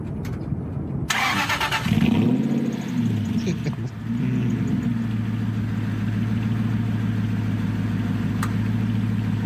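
A car engine cranks and fires, then revs up once and settles into a steady low idle, close and loud with no voices over it.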